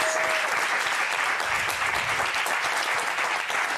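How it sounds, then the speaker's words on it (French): A French television studio audience applauds a guest with sustained, even clapping that stays loud and unbroken throughout, with a faint low murmur partway through. "On peut l'applaudir."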